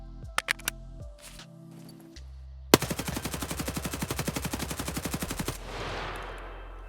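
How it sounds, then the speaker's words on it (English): A full magazine of BS rounds fired in Escape from Tarkov: one long, rapid, evenly spaced burst of loud automatic gunfire, preceded by a few clicks and handling noises and trailing off into a reverberant echo. "let's mag dump a full mag of just BS"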